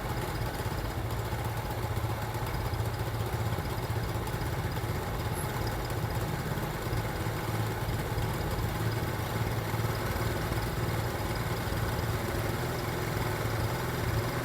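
A 70cc motorcycle engine idles steadily during a carburetor mixture adjustment, a constant close rumbling drone with a faint mechanical clatter, unbroken and without talk.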